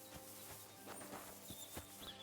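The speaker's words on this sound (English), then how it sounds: "Hey, this is a nice horse." A horse in the Kingdom Come Deliverance 2 video game walks with soft, evenly spaced hoof clops, fairly quiet under a faint ambient background.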